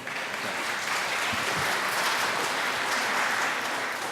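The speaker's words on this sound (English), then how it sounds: "Could I have a round of applause again for Dr. Waller?" Sustained applause from a conference audience honoring Dr. Waller at a session on technology and corruption in Caribbean societies, steady and dense throughout, with no voices over it.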